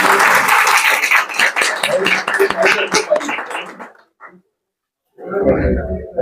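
An audience applauds at a welcome ceremony for a professor, a brisk burst of clapping that thins out and stops, followed after a short silence by a speaking voice.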